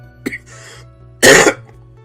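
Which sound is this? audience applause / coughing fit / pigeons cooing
coughing fit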